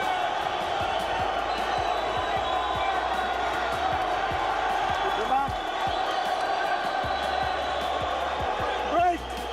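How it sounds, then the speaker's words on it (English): A dense arena crowd at a wrestling match roars and cheers continuously near the mic, with a commentator's voice running over the top and a louder burst of whoops near the end. "The crowd is going crazy for him."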